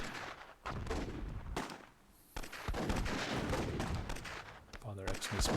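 RPG rockets fired in the Myth II Soulblighter video game, a string of loud booming launches and blasts in repeated bursts, heard with speech over them.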